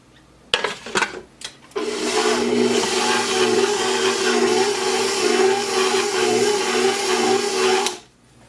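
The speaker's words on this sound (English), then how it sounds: "I'm going to pull this down off this dough hook and then I'm going to turn it back on again" A stand mixer with a dough hook kneads sourdough bread dough, giving a steady loud motor whir for about six seconds after a few short starts and stops, then shutting off.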